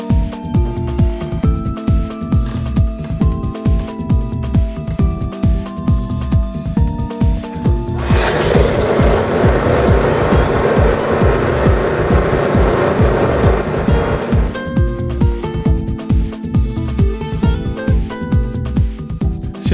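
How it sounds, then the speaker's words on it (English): A snowblower's small gas engine runs at a steady idle with fuel stabilizer mixed in, a close, loud, rapidly pulsing putter. A hissing rush swells over it for several seconds in the middle. "mixing it now and running the engine for a few minutes will allow the conditioner to run through all the lines"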